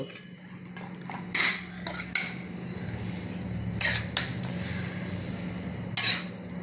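Meat is spooned into a pot while layering biryani, with several sharp metallic clinks and scrapes of a spoon against the pot over a low steady kitchen hum, close and intermittent, no voices.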